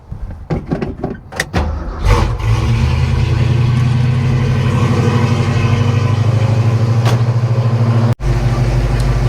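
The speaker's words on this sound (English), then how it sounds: "We've got the engine idling, we've got the coolant in here." A few sharp clicks and knocks, then a car engine settles into a steady, loud, close idle with a low rumble while its coolant system is being burped; a brief dropout occurs near the end.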